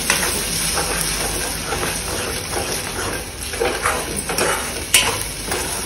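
Egg bhurji made with three eggs cooking in a pan over a full gas flame, with soft steady frying sizzle, scraping stirs and clinks of a utensil against the pan throughout, one sharper clank near the end.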